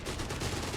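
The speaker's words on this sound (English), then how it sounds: "Sabzab being met with heavy fire" Rapid automatic gunfire in the World War II strategy game Company of Heroes 3, dense bursts of shots in quick rhythm during a heavy firefight, loud and continuous for under a second.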